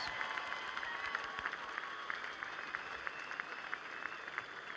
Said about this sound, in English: how about a big, giant round of applause for Kim Clijsters and Caroline Wozniacki